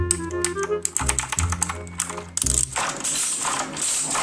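Close, clicky typing on a KLIM mechanical keyboard in irregular bursts, with a rustling handling noise toward the end.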